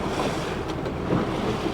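A 1976 Starcraft boat runs on rough, windy open water of the Mississippi River, with steady broadband rush of wind buffeting the microphone and water splashing along the hull, loud and continuous.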